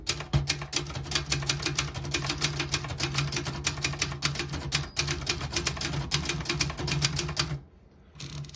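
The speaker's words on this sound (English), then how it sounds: "I'll type a sentence on the next line." Typing on a 1979 Brother Citation portable manual typewriter, a fast, even run of close, crisp key strikes that stops abruptly near the end, with a soft mechanical clunk afterward.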